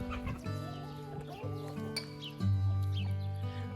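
Old hens cluck and call close by in a farmyard, with a rooster's crow among them and a loud, low burst of clucking in the second half.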